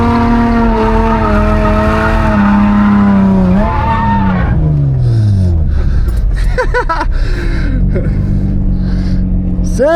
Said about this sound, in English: You can hear I do a couple more dumps of the clutch and I really try to focus up and keep the car from spinning out